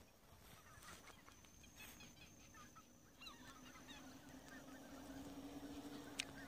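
Wild geese fly over the Cheorwon migratory bird grounds, giving faint, distant honking calls repeated against a low steady background hum.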